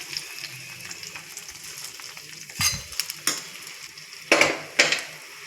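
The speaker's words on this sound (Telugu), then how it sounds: "ఈ గీ వచ్చేసి దీంట్లో యాడ్ చేస్తాం." Ghee being stirred into jaggery rice in a pot for temple prasadam, with soft scraping and faint sizzling throughout and a few louder spoon knocks against the pot near the end.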